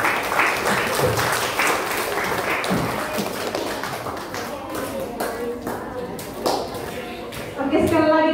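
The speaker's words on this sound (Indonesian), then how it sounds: "Oke, sekali lagi kita berikan tepuk tangan." Audience applause at a church gathering, a steady wash of clapping with taps and thuds that runs the whole time under voices, swelling again near the end.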